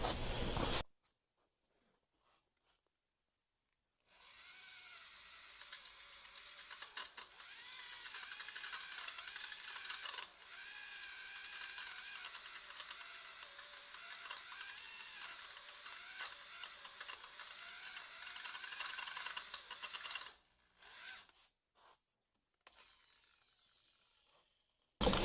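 A drill bores into a broken high steer arm bolt with a thin, high whine running for about sixteen seconds after a short silence, briefly dipping and then stopping in a few stuttering bursts.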